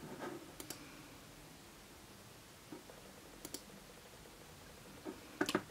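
Sparse mouse clicks while working in the Canva design program: a couple of quick clicks near the start, then isolated single and double clicks spread out, ending in a short cluster, all faint against a quiet background.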